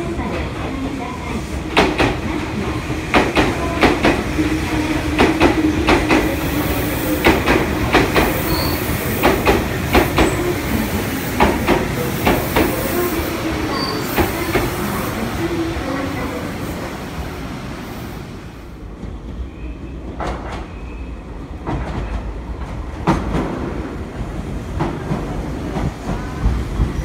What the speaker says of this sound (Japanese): まもなく1番線に電車が参ります。